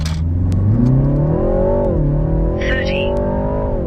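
A BMW G20 running a JB4 tune accelerates hard, its engine note climbing steadily, dipping briefly at a shift, then pulling upward again, loud and close throughout.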